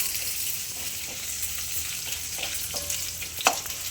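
Onions sautéing in hot oil with dried red chillies for mutton gravy: a steady close sizzle with faint stirring scrapes and a sharper clink near the end, no voices.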